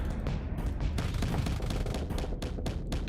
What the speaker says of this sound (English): or at least use one of the flat cannons.